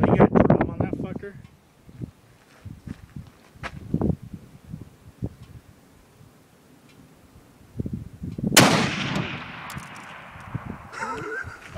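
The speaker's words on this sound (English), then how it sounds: "he's shooting way the fuck out there" A .50 caliber rifle fires one booming, distant-sounding blast that rolls off slowly, with people talking before and around it and a few sharper knocks and clicks nearby.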